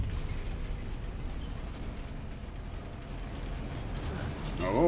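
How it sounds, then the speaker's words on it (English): An elevator grinds and clanks along in Hogwarts Legacy, a steady mechanical rumble with ratcheting gear noise that holds evenly, then swells louder with a rising whirring sweep at the very end. "So where does this elevator go?"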